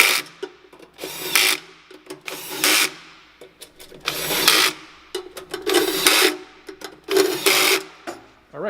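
A ratchet tightens the nuts on a coffee roaster's new heat element in repeated bursts of rapid clicking, close and fairly loud, with short pauses between strokes.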